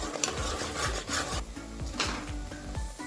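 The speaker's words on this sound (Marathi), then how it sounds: "आणि आपण परत 5 मिनिटांसाठी हा मसाला व्यवस्थित परतून घेऊ." Masala with turmeric being stirred and sautéed in a pan for a rustic chicken thali, giving a steady rough scraping and rubbing with irregular repeated strokes, close and fairly loud, with no talking.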